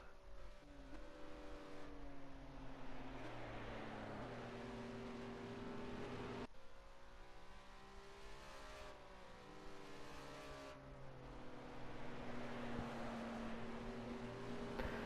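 Ginetta GT4 SuperCup race car running down the back straight of a circuit, engine droning steadily with rising and falling harmonic pitch sweeps as it accelerates and shifts, continuous and fairly loud throughout.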